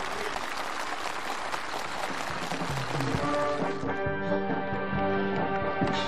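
Enthusiastic applause from participants at a housing handover gathering for farm workers, a steady dense roar of clapping that continues under music rising in partway through.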